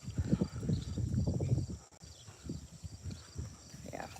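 A rescued horse walking, hooves clip-clopping in a quick uneven series of close taps, loudest at first, then fainter and sparser, with a voice talking at times.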